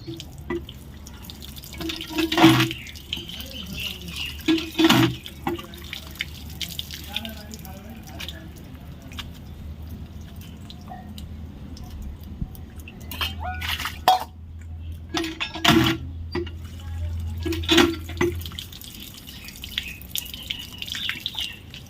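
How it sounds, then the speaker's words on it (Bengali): Boiled chow mein noodles rinsed in cold water produce sporadic splashes and dripping bursts over a low background hum, with quieter trickling in between. "চাউমিনটাকে নিয়ে ধুয়ে আনি ঠান্ডা জলে"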